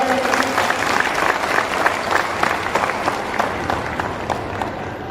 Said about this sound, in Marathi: सन्माननीय आमदार बाबासाहेब पाटील येत आहेत आपण त्यांचं एकदा टाळ्या वाजून स्वागत करूया